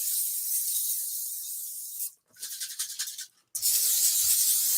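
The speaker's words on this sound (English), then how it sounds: "I'm just gonna spray it right here." Italian Walmart brand olive oil sprayed from a can in a room, a steady loud hiss that runs for about two seconds, breaks into shorter sputtering bursts, then returns as a continuous spray.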